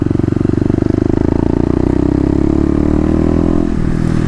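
A Kawasaki KLX250 with stage 1 mods revs hard through a 0-60 mph acceleration run, its loud, steady engine drone holding a high pitch before a sudden drop near the end, like a gear change.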